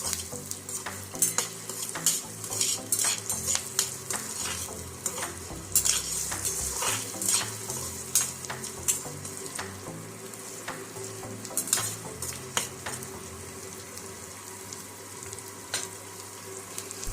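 Chopped onion and green chilies frying in a pan and being stirred, a steady close sizzle broken by frequent clinks and scrapes of a metal spoon, no one speaking.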